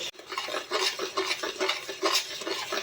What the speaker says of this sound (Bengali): এবারে আমি বেসন আর দইয়ের মিশ্রণটা অনবরত নাড়তে থাকবো